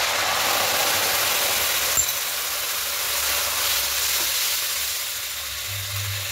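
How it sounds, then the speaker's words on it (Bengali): Chopped capsicum and green chili frying lightly in a pan, a soft steady sizzle with a small clink near the start, fairly quiet and continuous. "এবার এখানে ক্যাপসিকাম কুচি আর কাঁচা লঙ্কা কুচিটা দিয়ে দেবো। এটাকে একটু হালকা করে ভেজে নেব।"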